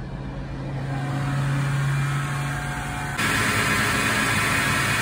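A car engine idles steadily while warming up toward operating temperature, a continuous low hum with a brief low drone early on and a sudden rise in hiss partway through, no talking.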